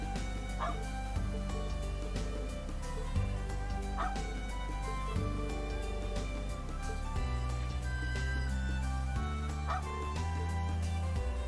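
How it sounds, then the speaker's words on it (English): A puppy barks in the video game Trails of Cold Steel III, a few short yips rising over steady game music and ambience. "Puppy."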